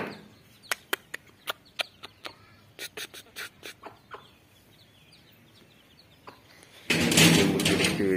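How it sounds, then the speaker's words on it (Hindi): A series of sharp clucks and short calls from a nearby rooster, spaced irregularly, followed by a louder burst of noisy fluttering at the end. "ये हमारा मुर्गा है"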